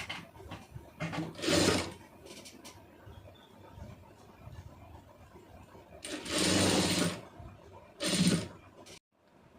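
A sewing machine stitches thread piping on cloth in several loud bursts, two short runs early and two longer runs later, separated by quieter handling sounds, with no talking.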